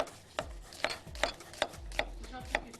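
Quick knife chops finely dicing onion on a cutting board, about seven sharp knocks in a steady rhythm, close up with no voices.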